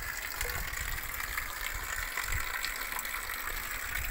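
Spring water gushes steadily from a mountain spring in Bhaderwah's Jai Valley, a continuous close rushing wash with no pauses and no voices.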